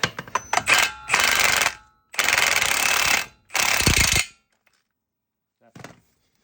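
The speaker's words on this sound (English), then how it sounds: "try not to be hitting the same spot on the axle too much" Metal hammering on a Ford Bronco Badlands axle during a differential tube and CV axle replacement: a few quick taps, then three loud, close bursts of rapid striking separated by pauses, ending in near silence with one last short burst.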